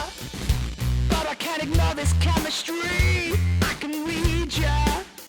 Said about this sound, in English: So that's how I got that fuzzy bass sound you can hear right there.